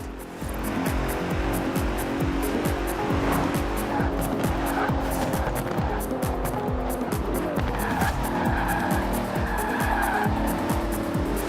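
A Bentley Continental in Forza Horizon 4 drives hard, its engine loud and close, revving up and down through rapid gear changes with tyres squealing and skidding, and no talk over it.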